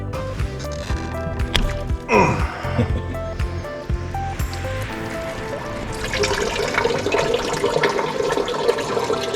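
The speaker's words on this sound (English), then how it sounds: "You peeing, bro?" A person urinates outdoors, a steady trickling, splashing stream of liquid that starts and stops unevenly over several seconds and is heard close up.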